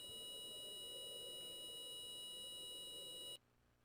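Fire alarm in an open-area experiment trial: a loud, steady electronic alarm tone with stacked harmonics sounds continuously for over three seconds, then cuts off abruptly into near silence.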